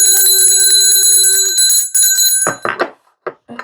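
A bell rings loudly and steadily for a second and a half, its tone lingering and fading before a few sharp clattering knocks close by.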